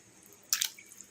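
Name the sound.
pork meat put into warm water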